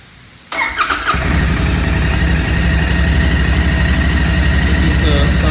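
After a quiet moment, a new Royal Enfield GT650 motorcycle in neutral cranks briefly on its starter and fires up, settling into a loud, steady, throbbing idle close by.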